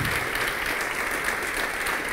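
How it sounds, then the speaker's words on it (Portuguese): A church congregation claps for Jesus during a sermon, a steady, dense wash of applause that stays even and fairly close from start to finish, with no voices rising above it. "Vamos dar uma salva de palmas para Jesus."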